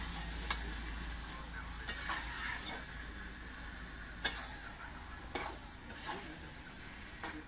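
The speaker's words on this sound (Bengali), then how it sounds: "এবার ভালো করে কষিয়ে নেব।" Duck meat sautéing in a pan for a Bengali duck curry, a soft steady sizzle broken by light clinks and scrapes of a spoon stirring every second or so, quiet and close.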